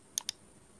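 Two quick, sharp mouse clicks about a tenth of a second apart, quiet and close against a faint background hiss, while settings are chosen in Windows 11.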